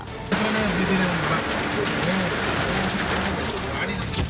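Heavy rain with hail and strong wind pours down in Bengaluru, a steady loud hiss of downpour starting abruptly and continuing throughout, with a faint voice beneath it.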